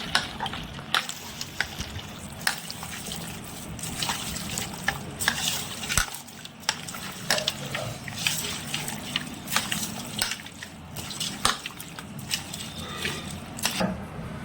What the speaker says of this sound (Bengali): ভালো করে মাখানো হচ্ছে মাংসটা